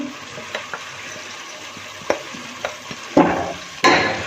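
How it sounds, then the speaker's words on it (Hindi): Minced meat with spices is fried and stirred in a pan, a low steady sizzle broken by sharp spatula scrapes and knocks, with bursts of louder frying near the end. "इसको अच्छे तरीके से आपने मसालों के साथ कीमे को अच्छे तरीके से आपने भूनना है"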